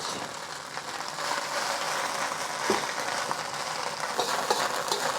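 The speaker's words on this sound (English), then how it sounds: "I'm going to add our noodles. We just want to fry it up to give it some flavor." Rice noodles frying in neutral cooking oil for Malaysian bee hoon goreng give off a steady, dense sizzle and crackle that holds throughout, with a few brief scraping knocks and no voices.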